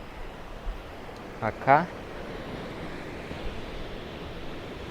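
Sea waves wash against the coast at Cascais, Portugal, a soft broad surf hiss with some wind under it, while a voice briefly speaks near the middle.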